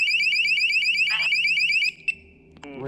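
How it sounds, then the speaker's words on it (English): A loud electronic alarm blares in a repeating warbling pattern for about two seconds at night in a forest, then cuts off, leaving a quiet hum with a brief click and faint shuffling. "see that alarm"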